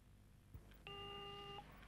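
An answering machine gives a single steady electronic beep lasting under a second, clear and close over a faint room hiss, with a soft click just before it.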